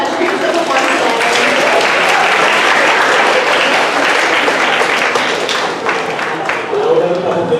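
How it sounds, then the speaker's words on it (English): Loud, sustained audience applause at a high school spoken word event, thick continuous clapping with a brief dip near the end and some voices mixed in. "Another round of applause for all of the videos"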